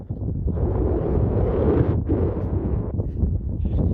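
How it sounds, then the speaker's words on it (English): Strong wind gusting across an open field beside a gravel footpath, a steady loud roar buffeting the microphone with a brief lull near the middle and no talking. "It's getting quite strong, that wind."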